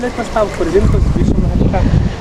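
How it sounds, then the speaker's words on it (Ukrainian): Loud, rough wind buffeting a nearby microphone while carp fishing, a steady low rumble with a voice speaking over it. "Вітер, бляха, дує."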